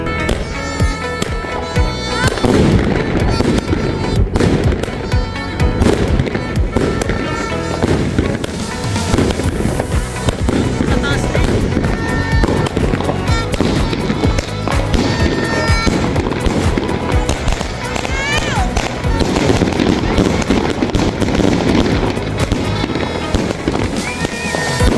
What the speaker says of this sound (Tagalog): Ako nga pala ay may binili din pong fireworks at ito po ay piniprepare ko na po ngayon.